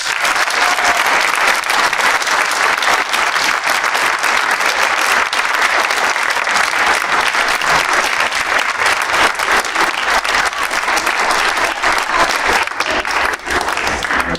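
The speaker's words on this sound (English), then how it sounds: "So please put your hands together again for the" An audience at a prep school stage production of Peace Child applauds the cast, loud sustained clapping that holds steady and dense for the whole stretch with no voices over it.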